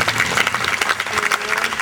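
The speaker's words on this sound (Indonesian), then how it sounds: "Tepuk tangan, terima kasih." Lively applause from an audience at a Javanese cultural lecture, a fairly close, dense patter of claps lasting under two seconds.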